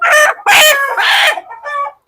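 A chicken clucks and crows in several loud, harmonic bursts close by, with short pauses between calls.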